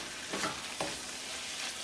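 Cabbage and jerk chicken stir-fried in a pot for fried rice, with a steady broad sizzle and two quick stirring scrapes close by, no talking.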